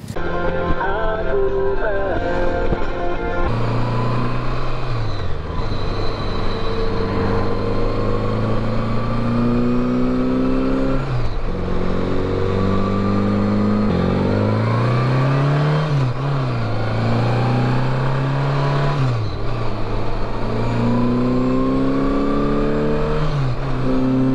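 A 1981 Honda GL1100 Interstate motorcycle engine runs steadily with a smooth, whining turbine-like tone that rises and falls in pitch as it revs, close and loud throughout.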